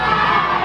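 A wrestling crowd at a live independent show cheers for Isaac Daniels, a brief, dense roar of many voices shouting together.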